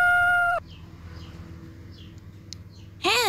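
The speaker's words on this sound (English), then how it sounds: "Rooster. Ayam jantan." A rooster begins a loud, close crow at the very end after a stretch of quiet, preceded by a brief tonal sound at the start.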